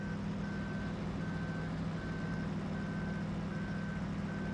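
A truck reversing in the Farming Simulator 2013 video game gives out a regular series of short electronic beeps, about six evenly spaced tones, over a loud, constant diesel engine rumble.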